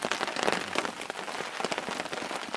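Steady rain patters densely on surfaces at a wilderness campsite in the Boundary Waters on Snowbank Lake, a continuous close hiss of drops with no voices.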